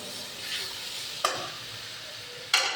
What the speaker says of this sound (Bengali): এখন গরম জল দিয়ে দিব।